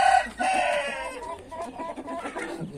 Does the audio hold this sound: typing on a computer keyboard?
no